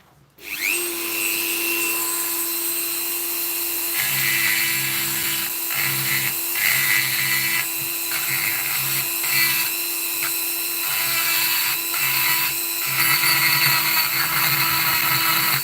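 A lathe or machining tool cuts a flat face on an e-bike hub axle, producing a steady loud whine with a humming drone and intermittent pulsing as the cut proceeds, with no talk.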